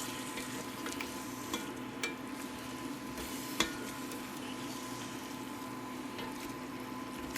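Tomatoes hit a hot pan with browned bits stuck to the bottom, making a steady low sizzle and hiss for the whole stretch, with a few brief clinks and one sharp knock from a utensil partway through.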